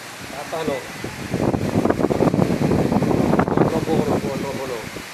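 Strong gusty wind at a mall where trees fell onto parked motorbikes, buffeting the microphone in a loud, steady roar as people talk throughout.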